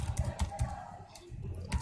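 Rapid clicking keystrokes on a computer keyboard during web design work, an uneven patter of taps close to the microphone, quiet and with no talking.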